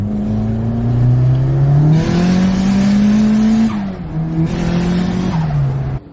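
A tuned, turbocharged Nissan Pulsar SSS N14 with an SR20DET engine, around 220 kW and E85-capable, pulls away with rising revs through gear changes, then a dip and another climb, loud and close.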